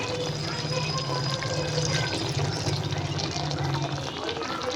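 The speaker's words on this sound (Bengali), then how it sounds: "এই যে গুঁড়ো মশলার জলটা দিয়ে দিচ্ছি" Spice-powder water poured into chicken cooking in a pan, a steady liquid trickle and splash running under continuous talking.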